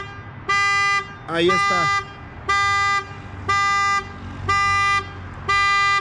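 A Chevrolet Spark Activ's horn, triggered remotely through OnStar, honks in regular short blasts, about once a second, with a brief spoken remark between the first honks.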